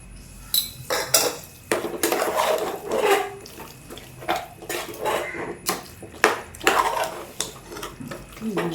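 Stirring beef biryani masala in a pot, with spoon-on-metal scrapes and clinks in irregular bursts, close and moderately loud, no talk.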